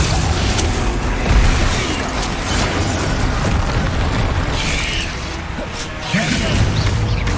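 Confringo blasting spells detonate in Hogwarts Legacy combat, with booming bursts and crashes in a dense, continuous roar of battle while voices shout over the din.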